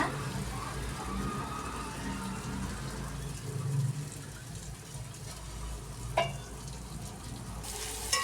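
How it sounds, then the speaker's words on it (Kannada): Cluster beans being stirred in a pan with turmeric, salt and chili powder, a steady close sizzle and scraping stir running throughout with one sharper clink near the end. "ಚೆನ್ನಾಗಿ ತಿರ್ಸ್ಕೋಬೇಕು ಅರಿಶಿನ ಉಪ್ಪು ಖಾರ ಎಲ್ಲ ಚೆನ್ನಾಗಿ ಹಚ್ಬೇಕಲ್ಲ ಅದಕ್ಕೆ"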